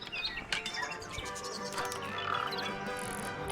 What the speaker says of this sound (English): And it's home to 3 especially fancy birds.